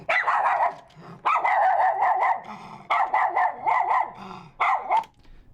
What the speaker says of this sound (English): Play the authentic miniature schnauzer.